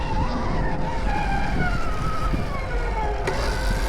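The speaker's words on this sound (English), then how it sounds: "Braking." A Stark VARG electric motorcycle braking and skidding on a turn track, with a continuous loud scraping skid and a whining tone that slides downward as it slows, ending in a sharp scuff.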